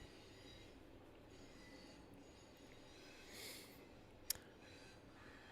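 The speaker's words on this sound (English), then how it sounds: "I hope that doesn't come out like the actual train now going by." A train passes at a distance as a faint, steady rumble, with a brief sharp squeal or clank partway through.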